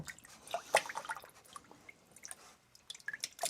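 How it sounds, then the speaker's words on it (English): Running water rinses and drips off a Fukami 5000 grit sharpening stone, with scattered wet splashes and small drips, fairly quiet and close, with no talking. "Rinse it off here."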